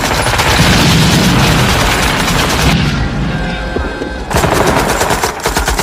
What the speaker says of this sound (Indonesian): Joker terpaksa melepaskan peluru full metal jaketnya untuk membantu rekan-rekannya mencegah musuh